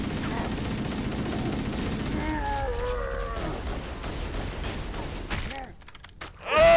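Gunfire in the Halo shooter game while the player jump-shoots and reloads, with rapid bursts of shots, a few mechanical clicks and a sharp loud hit at the end.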